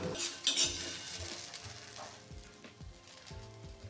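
Okra for bhendi chutney roasts in a pan, a soft sizzle with a few light scrapes and clinks of a spatula stirring, close and fairly quiet.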